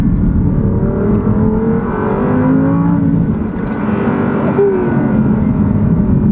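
An Audi R8 V10 RWS engine revs hard and climbs through the gears, loud and close, with a high-pitched roar that rises and falls as it accelerates.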